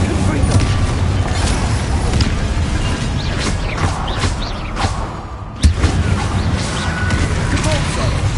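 Fire and blast spells (Incendio and Confringo) go off in Hogwarts Legacy as repeated booming thumps and fiery bursts over a dense rumbling combat bed, with a sharp impact midway and voices heard throughout.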